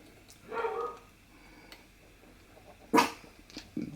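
Dogs bark in a few short, fairly loud bursts, one near the start and a sharper one toward the end, with quiet background in between and no talking.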